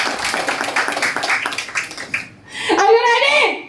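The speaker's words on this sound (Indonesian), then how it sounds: "Tepuk tangan dong buat Koprunas Bapak Ibu." An audience claps for Koprunas, a dense patter of many hands for about two seconds, then the clapping gives way to a voice speaking or calling out over the crowd.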